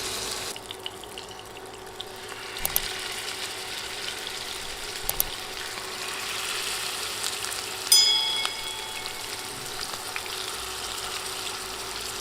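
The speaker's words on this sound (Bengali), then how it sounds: "তেল ভালোভাবে গরম হলে মাছের পিসগুলো দিয়ে দিচ্ছি।" Fish pieces frying in hot oil on a high flame, a steady crackling sizzle that swells as the pieces go in, with a few sharp clicks and pops standing out along the way.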